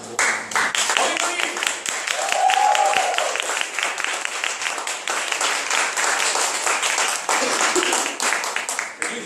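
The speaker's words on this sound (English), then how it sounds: "please use a round of applause to welcome" An audience at a nutrition talk applauds steadily for about nine seconds, dense clapping filling the room at an even level, with a brief murmur of voices partway through.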